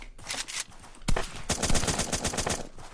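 Gunfire in an online io shooter game, rapid close bursts of shots with a sharp crack near the start and a fast stuttering automatic volley running through the second half.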